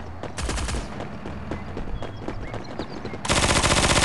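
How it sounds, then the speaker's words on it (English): Uzi gunfire in the mobile shooter Forward Assault comes as rapid, loud automatic bursts. A short burst near the start is followed by a sustained, louder volley at the end, over steady game background noise. "Ooh, somebody got an Uzi. Hear it?"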